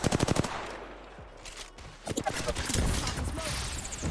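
Rapid automatic gunfire in the video game Apex Legends, loud and close bursts at the start, then renewed volleys of shots in the second half amid game effects.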